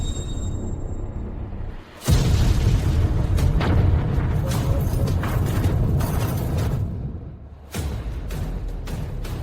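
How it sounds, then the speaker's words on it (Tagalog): A tomb blows apart in a sudden heavy boom, followed by a sustained loud roaring rumble that fades, then a second burst of crashing debris. "Sumabog ang puntod."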